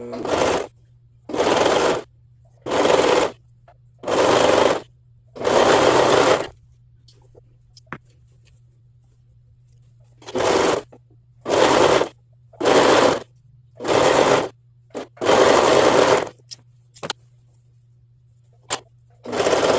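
A sewing machine stitches the crotch seam of a patchwork romper in a run of short, loud bursts of rapid whirring, each a second or two long, separated by quiet pauses with a faint steady hum beneath.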